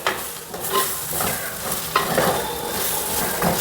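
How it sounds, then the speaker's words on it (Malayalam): Fish masala with ground pepper scraped and stirred in a hot pan for a Kerala fish mappas, a steady sizzle under repeated close scraping strokes of a spoon, no talking. "ഇനി നമുക്ക് ഇവരെല്ലാവരും കൂടി ഒന്ന് യോജിപ്പിച്ചെടുക്കാം"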